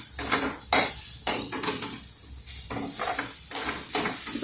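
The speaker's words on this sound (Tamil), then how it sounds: "இப்போ தேங்காய் நம்ம லேசாக வறுத்துக்கிட்டோம்" Grated coconut is being roasted in a pan for Vinayagar Chaturthi modakam, with a spatula scraping and clinking against the metal in an irregular rhythm of light, close taps and stirs.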